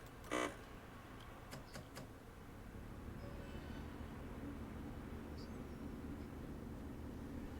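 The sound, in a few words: Class 142 Pacer train engine, train simulator video game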